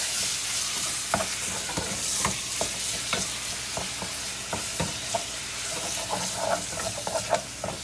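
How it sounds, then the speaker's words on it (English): An onion mixture stirred continuously in a hot frying pan, with a constant sizzle and hiss broken by frequent sharp scraping knocks of the utensil against the pan, close and loud. "like don't stop. Keep stirring, stirring, stirring."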